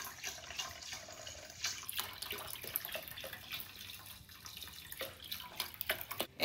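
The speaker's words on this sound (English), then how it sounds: "we're going to add in 4 cups of vegetable broth. We're going to use this whole carton." Vegetable broth pours from a carton into a pot for Creole vegetarian dirty rice, a close, moderately quiet stream of gurgling liquid with glugs and splashes that grow louder toward the end, no talking.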